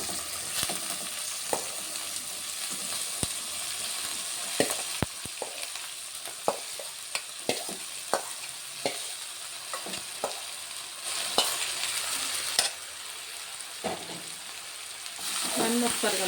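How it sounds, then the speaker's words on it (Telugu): Boiled broad beans stir-fried in a fenugreek curry, a soft steady sizzle with scattered spoon knocks and scrapes against the pan, fairly quiet and close. "ఇప్పుడు ఇందులో ఉడికించుకున్న చిక్కుడుకాయలు కూడా వేసేస్తున్నా."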